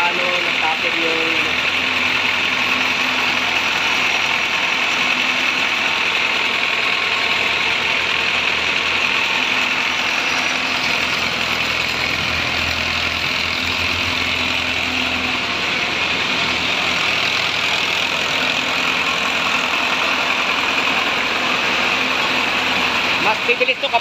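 A homemade hollow-block mortar mixer runs continuously, its motor turning the drum through a pulley with a steady, even mechanical hum and whir at close range.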